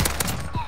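Rapid bursts of video game gunfire from Call of Duty on a new multiplayer map, several sharp shots in quick succession, loud and close, with faint in-game noise between them.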